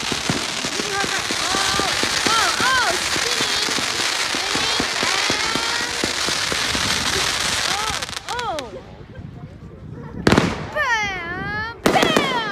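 Fourth of July fireworks going off in a dense barrage of booms and crackles, followed by a few separate loud bursts with fizzing crackle; voices can be heard amid the explosions.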